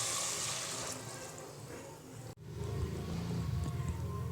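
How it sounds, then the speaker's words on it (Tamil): Two tumblers of water poured into a cooking pot for peas rice, a steady close rush of liquid that briefly breaks off and then resumes, with no speech. "2 டம்ளர் தண்ணி ஊற்றலாம்."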